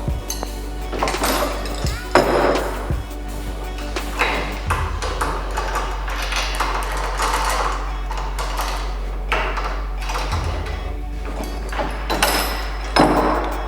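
An axle assembly is pulled out of bearing cassettes on a 2019 IONIC Edge kart chassis, with scattered metallic clanks, pings and scrapes of varying loudness amid close speech.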